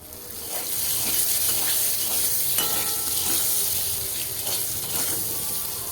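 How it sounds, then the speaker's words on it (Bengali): Potato pieces sprinkled with salt and turmeric crackle and sizzle steadily in hot oil in a pan, with soft stirring scrapes recurring every second or so, close and fairly quiet, with no talking. "আর আমি আলুটাকেও এইভাবে তেলের মধ্যে দিয়ে ভেজে উঠিয়ে নেব।"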